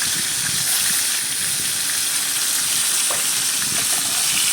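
Fish pieces frying in oil in a kadai, giving a dense, steady, close sizzle that carries on unbroken with no voices over it.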